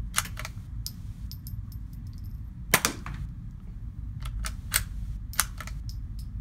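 A CZ 455 rifle fired through an A-TEC Wave suppressor gives several short, muted cracks at irregular intervals, one noticeably louder, with small mechanical clicks between them over a low background rumble.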